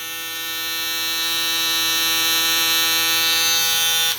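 A Babyliss UVFoil electric foil shaver hums steadily and loudly, its motor producing a bright, even buzz that holds unchanged for about four seconds before a brief dip at the end.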